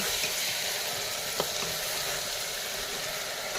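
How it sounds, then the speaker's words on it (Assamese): Local chicken curry sizzling and frying in a pan as it is stirred, a steady, close, continuous hiss with a faint scrape, no talk. "অকণমান দেৰি ইয়াতে ভাজিম"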